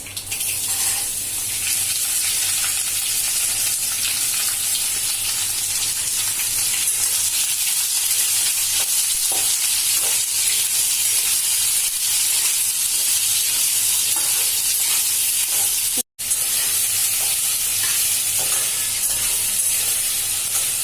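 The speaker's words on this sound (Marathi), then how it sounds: "फोडणी तडतडली आता आपण कैरी टाकतोय" Raw green mango pieces dropped into a hot garlic tempering in a kadhai: a broad, steady hiss of sizzling oil and steam that fills the whole stretch, cut by one abrupt brief silence near the end.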